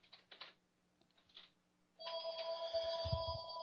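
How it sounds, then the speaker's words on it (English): A telephone rings in the background indoors, a bright sustained electronic ring that begins partway through and continues steadily after a few faint keyboard-like clicks. "I apologize for the phone ringing in the background."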